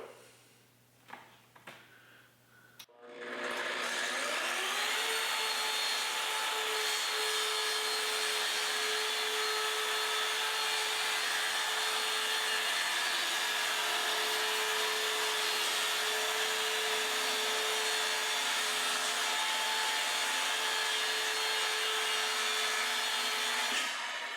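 A Kreg track saw spins up and plunges into a scrap of foam board: a few faint handling clicks, then a loud, steady motor whine with a cutting roar that holds for about twenty seconds, close and uninterrupted.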